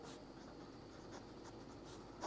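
A pen scratches steadily across paper while a Class 12 maths limit problem is written out, a faint, continuous scribbling with short bursts of strokes and no talking.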